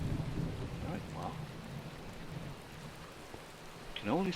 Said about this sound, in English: It looks like today's day is going to be rain.